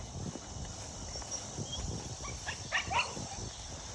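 Young rabbit-hunting dogs at a kennel camp bark outdoors, with several short barks clustering toward the second half over a busy background of shuffling and movement.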